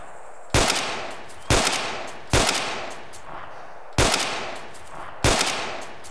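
Gunshots in the DayZ video game on the Taviana map, five loud, sharp reports spaced about a second apart, each with a long echoing tail, close and with no talk over them.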